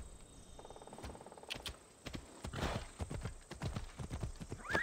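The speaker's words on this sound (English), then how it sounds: "Get out of here, horse." Horse hooves clip-clop in Assassin's Creed Odyssey, a steady run of hoofbeats that grows louder and nearer over a few seconds, with a faint whinny and some game ambience around them.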